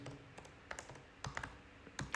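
An msfvenom command typed on a computer keyboard, with soft, scattered key clicks at an uneven pace, heard close and quiet with no speech.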